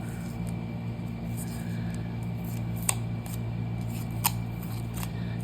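Electrical tape is pulled off the roll and cut during the final stages of a knife build, with a few crisp snips and rips standing out over a steady workshop hum.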